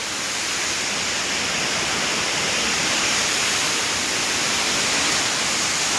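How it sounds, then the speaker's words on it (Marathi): A waterfall at Ghonsari near Kankavli in the Konkan region gives off a steady, dense roar of falling water that holds constant and loud from start to finish, with no voices over it. "समोर धबधबा दिसायला लागला होता बघा."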